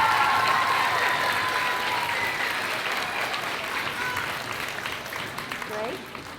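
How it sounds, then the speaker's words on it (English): An elementary school audience at a Veterans Day program gives a round of applause, loud at first and gradually fading, with some voices murmuring underneath. "Let's give them a quick round of applause for making this happen."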